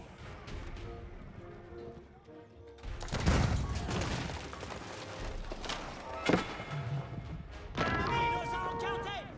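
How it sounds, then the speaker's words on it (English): Cannons boom in a battle in the Age of Empires IV video game, heavy thuds and impacts erupting amid a busy mix of game effects and a commentator talking. "Cannons now engaged in the capital."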